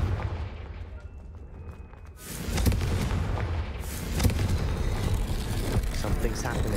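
A fiery Confringo blast spell in Hogwarts Legacy erupts with a loud boom after a quieter stretch, followed by rumbling, crackling debris and a second surge; a voice talks over it.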